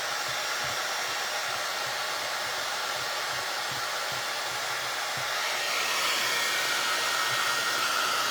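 A heat tool drying fresh decoupage on a bread box gives a steady, close, even airflow whir that holds for the whole stretch and swells slightly near the end, with no talking.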